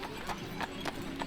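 Horse hooves clip-clop in a steady, even rhythm at a big Christmas fair in Põhja-Tallinn, four distinct hoofbeats sounding close over a constant crowd murmur.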